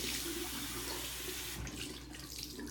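Warm water running steadily from a tap into a sink, as if for washing a face with a washcloth; a continuous close splashing flow, alone with no voices.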